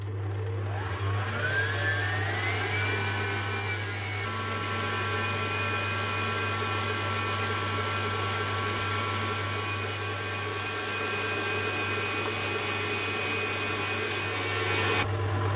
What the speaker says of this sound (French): on va utiliser le robot, on va mélanger tout ça